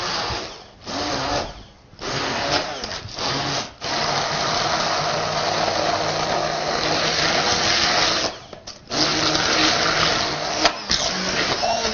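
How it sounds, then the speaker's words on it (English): An immersion blender purees Tuscan kale pesto in bursts, stopping and restarting several times, a close steady electric buzz with short pauses between runs. "Then immersion blender or a food processor could work as well."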